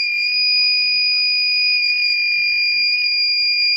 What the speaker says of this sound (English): This buzzer will be on until it becomes